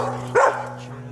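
A dog barks once, sharp and fairly close, in a shop where a turbo Nissan Hardbody pickup's chassis is being wired, with people talking and a steady electrical hum.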